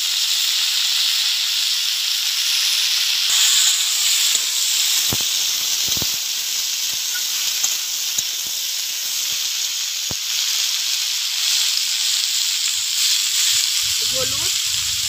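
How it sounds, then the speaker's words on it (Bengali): Raw mango pieces added to vegetables in a hot pan, giving a loud, continuous hiss and sizzle with scattered crackles and a few faint knocks near the end, close by and without speech. "এবার কেটে রাখা কাঁচা আম সবজির মধ্যে দিয়ে দেবো।"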